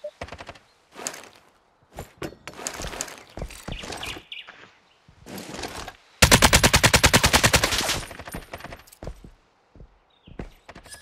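Machine-gun fire in the video game Lost Light comes in scattered short bursts, then a long loud rapid volley, close and dominant with brief pauses between.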